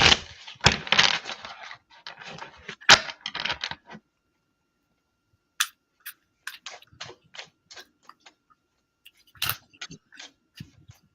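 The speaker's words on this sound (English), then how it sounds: "I'm so used to hearing you shuffle." A deck of tarot-style cards is shuffled quietly up close, with a busy flutter of soft snaps and clicks at first, then a pause, then scattered light ticks and card flicks in short bursts.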